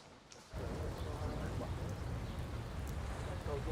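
Steady rain falling outdoors on an early morning, a dense broadband hiss that starts abruptly and continues evenly, fairly loud and close, with no voices heard.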